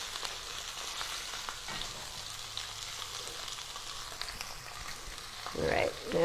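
Salmon fillets sizzle steadily in a pan, a constant close frying hiss. Near the end a louder scrape and clatter comes as a piece is flipped.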